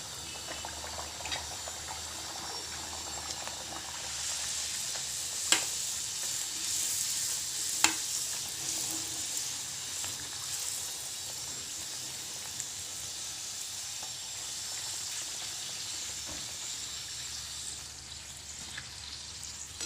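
Puris deep-frying in hot oil give a steady, close sizzle and crackle throughout, with a couple of sharp pops, while no one speaks.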